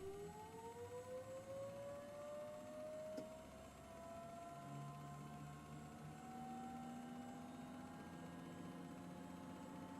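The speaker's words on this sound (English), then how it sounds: "we are going to start the right engine first. So engine ignition and engine start right on." A turbine aircraft engine in Microsoft Flight Simulator spooling up on start, its whine rising steadily in pitch over a low rumble, with no talking.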